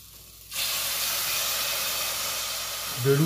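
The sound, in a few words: broth poured onto sizzling rice in pan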